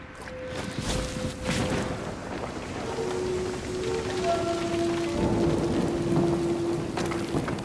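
Rain pours steadily in the Trek To Yomi video game, a soft continuous hiss of drops on surfaces that persists throughout, with a few faint sustained musical tones drifting over it.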